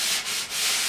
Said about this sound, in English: a square sanding block is ideal for a frame this shape